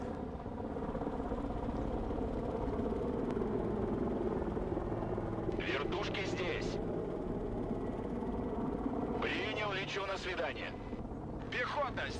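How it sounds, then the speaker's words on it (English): Military helicopters in the video game Broken Arrow give a steady, loud rotor and engine drone that runs throughout, with short brighter bursts of game sound partway through. "I might be able to sneak my choppers a little bit closer now."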